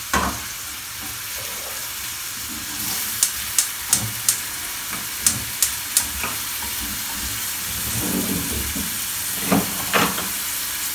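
Sucuk sausage fries in a pan with a loud, steady sizzle and hiss, broken by a few sharp clicks and pops near the microphone.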